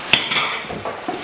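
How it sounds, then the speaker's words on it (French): Dishes being cleared off a table at home: ceramic plates and cutlery clink and clatter close by, with a sharp knock at the start and scattered lighter taps after. "je vais enlever la vaisselle d'ici, parce que sinon j'aurais jamais assez de place"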